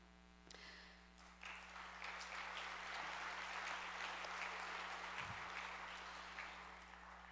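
An audience at an annual meeting gives a few seconds of steady, moderate applause, rising quickly, holding, then tapering off, over a low electrical hum.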